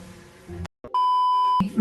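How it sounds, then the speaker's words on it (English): A single steady electronic timer beep holds one unbroken tone for about two-thirds of a second, loud and close, with brief talk and room noise just before and after. "I apparently had a timer set that I forgot to turn off."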